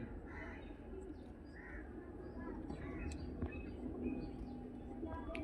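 Pigeons coo softly in a bird-sale setting, low murmuring calls repeating over a steady background hum with faint voices and other birds nearby.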